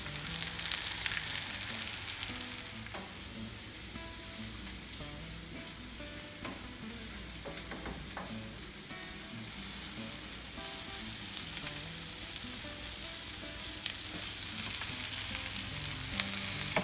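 Halved mushrooms fry in olive oil and butter, sending up a continuous bright sizzle and crackle with occasional stirring clatter, steady and close for the whole stretch.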